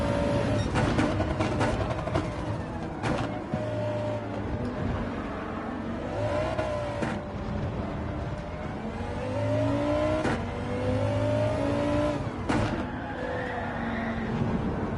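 A VW GTI Vision Gran Turismo car in the racing game Gran Turismo 7, its engine revving and whirring continuously as it brakes and accelerates through corners, with pitch sweeping up and down between gear changes.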